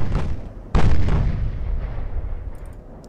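Warship guns fire a salvo in Ultimate Admiral: Dreadnoughts: a faint first boom, then one loud, close blast that rolls on and slowly fades over a few seconds.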